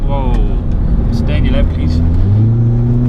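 High-mileage Volkswagen GTI with a newly fitted loud aftermarket exhaust, a deep steady drone from the engine held at low revs with a slight rise toward the end, while someone talks over it.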